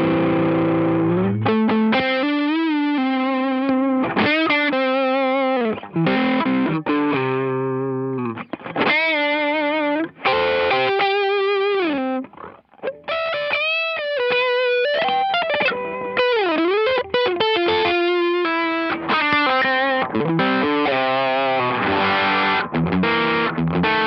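A Keeley Oxblood overdrive pedal on its mythical diodes setting drives a guitar through distorted riffs and sustained notes, loud and close, with varied phrasing and no talking.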